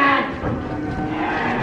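Cows lying down close by on a farm moo loudly in a long, sustained bellow that fills the whole moment and stops abruptly at the end, with no talking.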